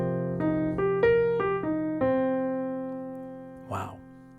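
A jazz arpeggio runs up and then back down in a quick rhythm of paired eighth notes, each tone ringing clearly over a sustained accompaniment, close and alone, with a brief noisy burst near the end.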